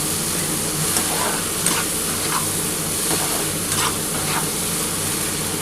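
A pan of mustard masala for Tangra fish curry, cooked down until the oil separates, fries with a loud, even hiss and bubbling as water goes in. A few stirring scrapes sit on top, and no one speaks.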